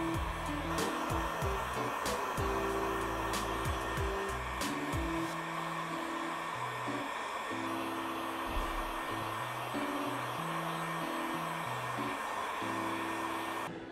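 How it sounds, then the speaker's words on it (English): A heat gun blows a steady loud whooshing roar while drying printed sneakers, continuous throughout with slight shifts in pitch as it is moved and a few faint clicks. "Today we're gonna be using a heat gun."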